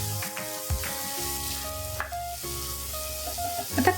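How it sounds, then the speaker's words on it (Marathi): Onion frying with ginger-garlic paste in a pan, a steady close sizzle with a few sharp spatula clicks and scrapes as it is stirred, no talking. "यामध्ये मी अर्धा चमचा आलं लसणाची पेस्ट घालते। आपण छान परतून घेऊया त्याला।"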